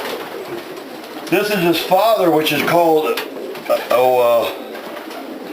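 Andalusian pigeon cooing in a few rounded, warbling bursts, close and fairly loud, with someone talking over and between the calls.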